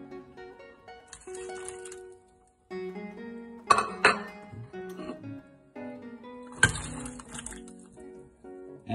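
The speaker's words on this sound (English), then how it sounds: "Add potatoes," Chopped potatoes, carrots and onions going into a pot of Finnish salmon soup, with scattered clinks, knocks and clatter of cookware, two sharper bursts of dropping and splashing, close with quiet gaps between.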